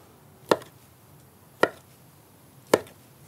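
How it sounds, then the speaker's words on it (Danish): Three separate knife chops through a long sausage onto a cutting board, evenly spaced about a second apart, sharp and close against a quiet background. "Og så kan vi skære den til snegle."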